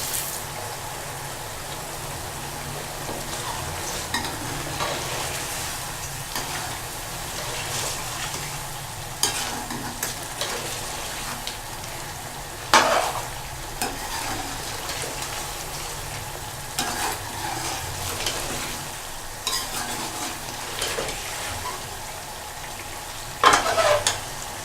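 Spice masala and chicken roasting in a karahi, a long steady frying sizzle broken by repeated scraping stirs of the spoon at irregular intervals, with no voices.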